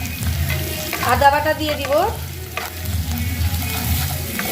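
Browned onions frying with chopped chilli, ginger paste and salt, a spatula stirring and scraping through the sizzling mixture in a pan; steady loud sizzle with clattering strokes, someone speaking briefly over it.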